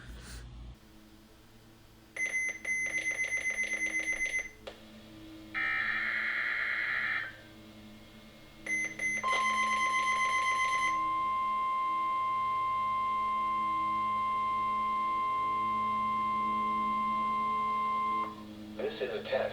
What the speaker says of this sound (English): So here is the alarm portion